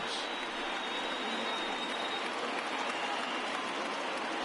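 A baseball crowd of over 28,000 rises to its feet, giving a dense, steady roar of cheering and applause that holds at an even loudness throughout, with no clear individual voices.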